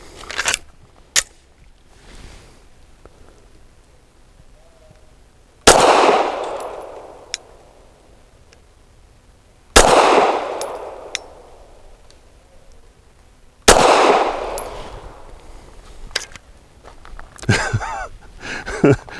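Ermox X-fire pistol firing Remington HTP 147 grain rounds, several sharp loud shots spaced a few seconds apart, each with a long ringing outdoor decay, plus a few lighter clicks and clanks between them.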